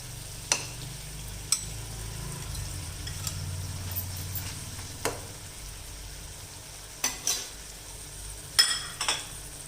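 Chicken and masala fry in oil under a low, continuous sizzle, broken by sharp scrapes and taps of a spoon stirring against the pan at irregular intervals, close up and without speech.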